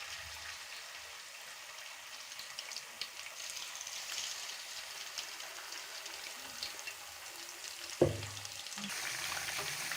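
Marinated fish frying in hot oil in a kadai for a Lahori-style fish fry, a steady soft sizzle holding throughout with a brief knock near the end, no voices.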